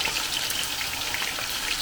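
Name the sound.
potatoes frying in a pan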